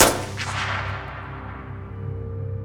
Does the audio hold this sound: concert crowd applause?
no